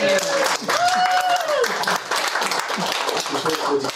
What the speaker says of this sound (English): Round of applause for Steve Hollings.